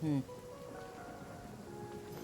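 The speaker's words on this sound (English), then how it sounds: "Now we got a bunch of rain here." Rain falls steadily in the video game Genshin Impact, a soft continuous patter running the whole time beneath faint tonal game sounds.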